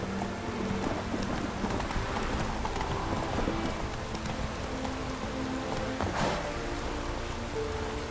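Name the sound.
horse Roach galloping in video game The Witcher 3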